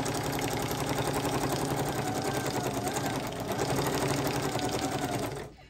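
A sewing machine whirs steadily through fast free-motion stitching on mixed media, a dense continuous mechanical buzz held for several seconds before cutting off abruptly at the end.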